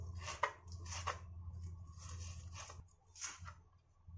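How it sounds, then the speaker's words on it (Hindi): Several sharp knife chops through leafy bathua greens, spaced irregularly over a low steady hum, close and moderately loud. "बथुए को कट कर लेंगे।"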